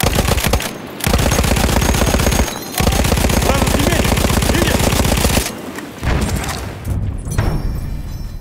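Lewis machine gun fire in a World War video game battle on the Volga river, long loud sustained bursts broken by short pauses, with distant game explosions and faint voices underneath.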